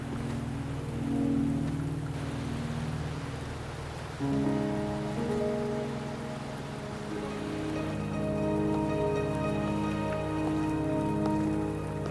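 Rain in the video game Wuthering Waves, a continuous steady patter on surfaces running throughout, joined partway by sustained layered musical tones, with no voices.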